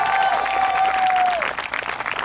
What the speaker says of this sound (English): Let's give a big round of applause to Mr. Rodney Arthur, our principal of this school.